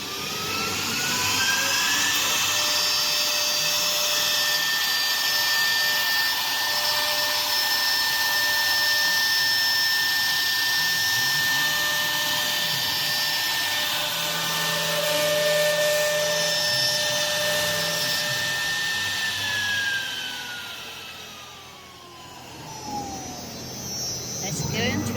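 A CNC router with a 4.5 kW HSD spindle cutting an MDF sheet gives a loud, sustained whine with steady high tones that hold level, then drop in pitch and fade near the end as the spindle winds down.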